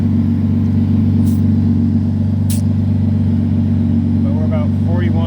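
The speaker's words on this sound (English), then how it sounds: "So it might be super loud with the compressor and the car running" An air compressor and the running engine of a Toyota Cressida being prepped for a track day make a constant loud, droning hum, with brief voice-like sounds near the end.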